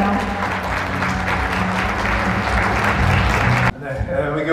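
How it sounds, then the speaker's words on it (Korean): Loud audience applause at a Korean politicians' forum dinner in Seoul as the foreign minister is welcomed to the stage, steady and dense before cutting off abruptly near the end, with a voice briefly heard afterward. "여러분 뜨거운 박수로 환영해 주시기 바랍니다"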